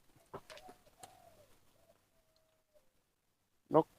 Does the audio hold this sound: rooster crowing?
no